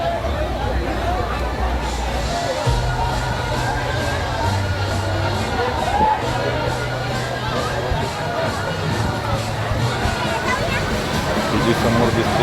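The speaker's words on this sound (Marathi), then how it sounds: "आज 1 मे असल्या कारणाने खूप गर्दी आहे." A busy holiday crowd fills BK Water Park in Dombivli, a steady babble of many voices and distant shouts carrying throughout, with someone speaking close by over the hubbub.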